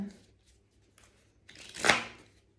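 Oracle cards being shuffled close up, a few soft flicks followed by one brief riffling burst, all fairly quiet.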